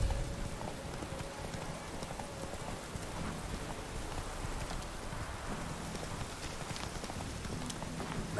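A horse galloping in The Witcher 3 video game: steady, close hoofbeats clip-clop throughout, over a soft rain-like background wash.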